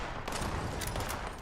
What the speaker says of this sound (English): Someone's shooting him.